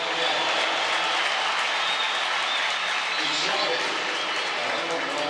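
Nearly 70,000-strong football stadium crowd at a Barcelona friendly against Club León in 2014 applauding and roaring as a player enters for his debut, a dense, steady wash of clapping and cheering throughout.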